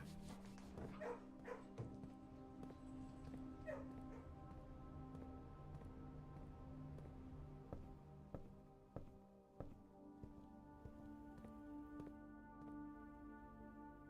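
Dogs in the video game Blue Prince give soft yips, whimpers and small barks over a quiet, steady background hum, with faint clicks scattered throughout.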